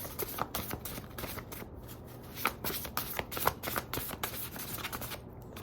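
Tarot cards being shuffled by hand in a steady run of close riffling and sliding card noise, brief papery bursts repeating for several seconds with no talk.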